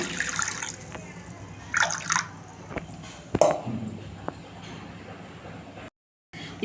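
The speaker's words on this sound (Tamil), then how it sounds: "இப்போது நம்ம கொழுக்கட்டைக்கு ஒரு கால் லிட்டர் போல் தண்ணி சேர்த்துக்கலாம்" Water splashes and pours into a pot of paal kozhukattai in a few short bursts, close by, followed by a quieter trickle and a brief silence.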